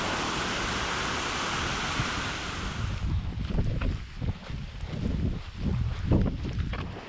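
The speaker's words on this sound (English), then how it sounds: "it's pouring down" Heavy rain pours down outdoors in the countryside, with sheep nearby, a loud steady hiss at first that gives way to gustier, rumbling wind and rain noise buffeting the microphone.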